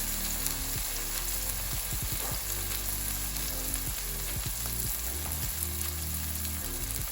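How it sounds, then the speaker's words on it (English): Beyond Meat plant-based meat sizzles steadily in a hot pan, a continuous crackling hiss with occasional stirring clinks, no talking. "While this bad boy is sizzling, let's add some flavor to it as well."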